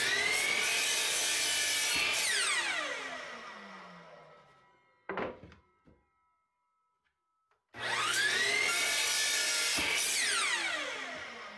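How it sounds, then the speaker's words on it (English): A power saw whines loudly through wood in two long cuts, clipping the corners off a drill press table, separated by a short clatter and a moment of near silence. "I'm just gonna clip off the corners"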